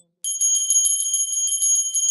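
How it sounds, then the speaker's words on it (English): A small metal puja bell rings rapidly and continuously during an arati offering to a Shivalinga. The clear, high rings repeat evenly and sound close and fairly loud, with no voices over them. "please ring the bell as you do so"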